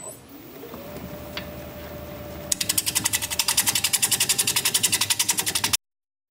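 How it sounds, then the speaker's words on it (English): A standard grind bowl gouge flattens the bottom and forms the tenon on a yew natural-edge bowl spinning on a wood lathe; motor hum ramps up, then a loud, rapidly pulsing cutting chatter runs close-up to the end. "now I'm going to take my standard grind bowl gouge and flatten out the bottom and create the tenon"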